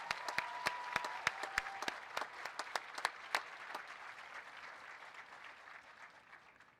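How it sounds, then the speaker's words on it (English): Scattered applause at a nursing commencement ceremony, sharp individual claps rising into a steady round from the gathered crowd, then fading toward the end. "Let's give everyone a big round of applause."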